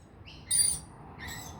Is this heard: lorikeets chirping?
yes